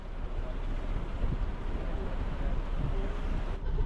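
Waves wash steadily against a small boat moving through the Sundarbans mangrove channels, a continuous close rush of water mixed with heavy wind buffeting on the microphone throughout.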